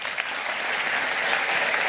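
An audience at a master class breaks into steady, sustained clapping that fills the room evenly from start to finish, with no voices over it.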